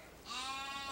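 A Barbados ram gives one drawn-out bleat, starting faint and swelling into a strong, sustained nasal cry that fills most of the second, close and clear with no talk over it.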